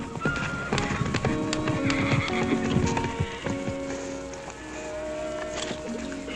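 Hooves clip-clop steadily on a busy ranch scene in a classic western, with a horse whinnying and snorting among jangling tack and bustle, the layered sounds fairly loud and constant throughout.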